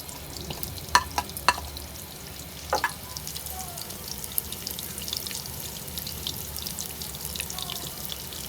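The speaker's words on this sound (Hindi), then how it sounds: "ऑयल को गरम करते हैं, प्याज डाल देते हैं, सफ़ेद ज़ीरा, और ये कलौंजी और मेथी दाना।" Onions, white cumin, nigella and fenugreek seeds fry in a cup of hot oil for a Hyderabadi fish dish, a low, even sizzle with a few sharp clinks near the start.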